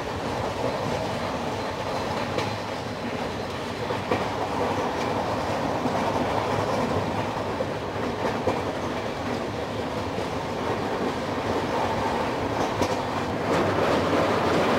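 Onboard the Dibrugarh–New Delhi Rajdhani Express, 20505, the train runs steadily as it crosses a river into West Bengal, with a continuous rumble and clickety-clack of wheels on rails, loud and close, with no voices.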